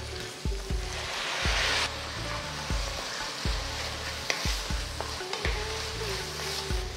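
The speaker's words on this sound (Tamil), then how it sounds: "வெங்காயம் ஒரு 2-3 நிமிஷம் நல்லா வதங்கின பிறகு அடுத்து நம்ம தக்காளி சேர்க்க போகிறோம்." Onions sauté in a pan for Kumbakonam idli sambar, a continuous close sizzle broken by regular spatula taps and stirring scrapes over a low rhythmic hum.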